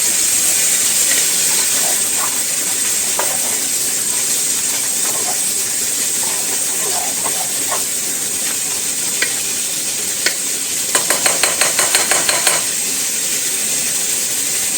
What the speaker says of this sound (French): Allez, on fait revenir tout ça.